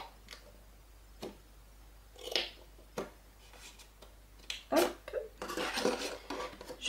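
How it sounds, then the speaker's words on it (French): Scissors cutting through paper or card while trimming a scrapbook craft box: several crisp, close snips at irregular intervals, ending in a denser run of rustling cuts. "Je découpe le superflu et je découpe entre les deux."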